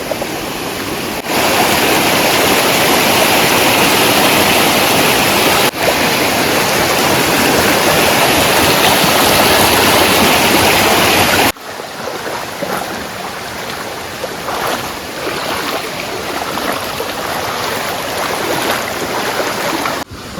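River water rushes steadily and loudly, a dense continuous roar that drops slightly in level partway through but keeps flowing without pause.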